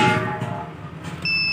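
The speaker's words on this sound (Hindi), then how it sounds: "यहाँ बीप की आवाज़ सुने होंगे" An inverter gives a short, shrill electronic beep as its isolator is lifted, a clear high tone heard near the end after a fading hum of the unit powering down.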